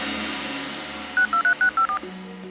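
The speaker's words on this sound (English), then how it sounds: "To the bamboo phone!" A rapid run of six electronic keypad tones sounds from a cartoon bamboo phone, each beep short and clear, following a quiet stretch.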